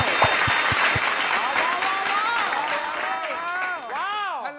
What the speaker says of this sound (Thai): ขอเสียงปรบมือให้กับน้องมิชา